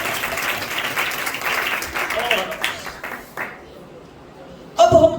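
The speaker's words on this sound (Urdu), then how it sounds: "اس مسیحا کے لیے زوردار تالیاں" Loud applause from an audience at a church memorial service sweeps through for several seconds, thins out into quiet, then a voice returns over a sharp burst near the end.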